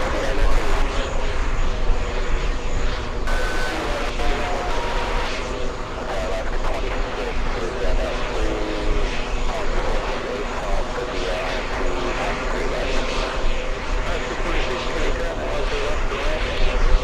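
A large jet airliner departs for Abu Dhabi with a loud, sustained engine roar that stays strong throughout, and a person talks over it.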